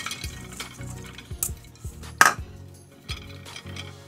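Broccoli florets shuffled around a frying pan, giving light scattered clinks and scrapes of food and utensil against the pan at an uneven pace, with one sharper clatter partway through and no voices.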